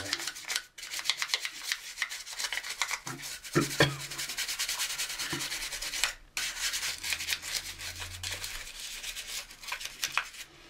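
Plastic 1/24 scale DeLorean slot car parts scrubbed with a toothbrush and dish soap, a close, continuous bristly rubbing in quick back-and-forth strokes with a couple of brief pauses.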